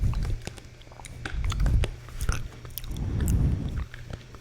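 Crunchy, crackly chewing of Nature's Cereal in a close-up ASMR mukbang, with repeated wet bites and crunches in uneven bursts, rising and falling in loudness across the clip.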